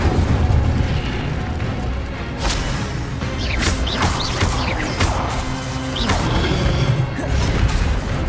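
An Incendio fire spell blasts in Witch Simulator 2023, a loud, dense roaring crash that rumbles on for several seconds, with sharp bursts flaring on top.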